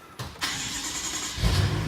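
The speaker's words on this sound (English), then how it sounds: "We've got a V8 power engine." BMW M6 Gran Coupe V8 engine cranking and firing up, then settling into a steady idle with a deeper rumble rising at the end, close and alone.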